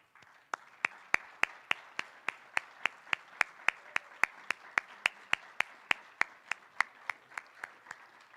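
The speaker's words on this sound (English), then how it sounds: "We now ask that our graduates stand and accept our final round of applause." Slow, steady rhythmic clapping at a graduation ceremony, each clap sharp and distinct at roughly three per second, like a small group or single pair of hands applauding graduates in a hall, no talk over it.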